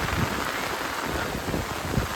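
A heavy downpour falls in a village, giving a constant, close roar of rain beating on surfaces, with a few deeper low thumps beneath the steady wash.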